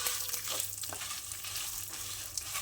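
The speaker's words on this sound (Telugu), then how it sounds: "ఎండుమిర్చి, ఇవన్నీ కాస్త మంచిగా వేగాలి." Dried red chillies with ginger and cumin frying in a little oil for radish chutney, a dense steady sizzle close up with a few soft stirring scrapes, no voices.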